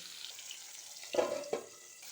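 Tangra fish simmer in hot oil in a pan, giving a faint steady sizzle, with two sharper clatters in the middle as a lid is set down over it.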